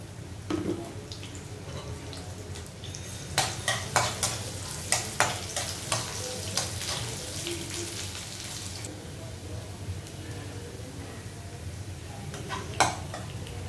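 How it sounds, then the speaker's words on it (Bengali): Sliced onion fries in hot oil in a pan for a Bengali hilsa and radish curry, giving a steady close sizzle broken by scattered clinks and scrapes of a stirring utensil against the pan, with no talking. "যে পেঁয়াজটা ভাজা ভাজা করবো"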